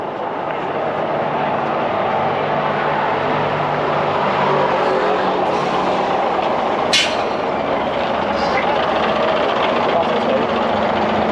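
A bus engine passes along a street in Benidorm, a steady broadband rumble holding throughout with a brief brighter hiss midway, and people talk faintly in the background.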